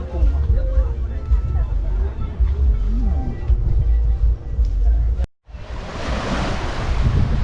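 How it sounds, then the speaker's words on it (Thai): Cool night wind gusts steadily across the sandy shore of the Sirindhorn Dam reservoir as water washes nearby. The rush is loud and close, and people talk and murmur under it, then it cuts out briefly and returns as a strong, hissing wind. "ตอนนี้นั่งริมน้ำเขื่อนลมแบบ เย็นสบายนะครับช่วงนี้"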